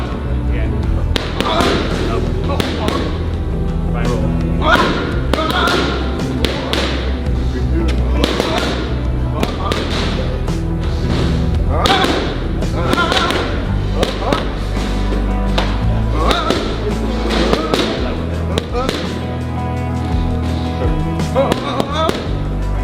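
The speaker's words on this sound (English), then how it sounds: "The mitt work is cracking with that same laser-timed rhythm" Boxing punches on focus mitts during training for a fight, sharp cracking smacks landing in a quick, tightly timed rhythm, close and loud, with a voice talking over them.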